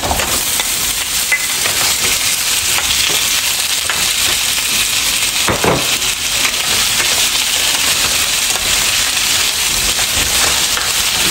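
Potatoes and carrots frying in a pan over medium heat, a loud, continuous close sizzle with occasional stirring scrapes and no talk.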